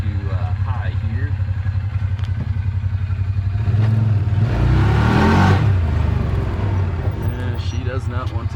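A Wildcat 1000 side-by-side engine pulls hard in high gear, its loud revving, clattering drone rising to a peak midway and then easing back, close and continuous throughout.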